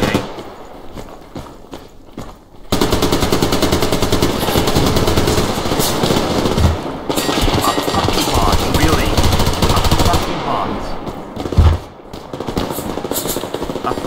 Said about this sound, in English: I'm taking it out with my AK.